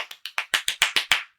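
Hands clap nine times in a quick, even rhythm, sharp and close, with no voices.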